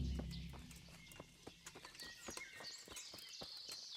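Horse hooves clip-clop steadily in Kingdom Come: Deliverance, an irregular run of close, moderately loud hoof strikes on the ground with faint ambient bird and outdoor sounds, no talking.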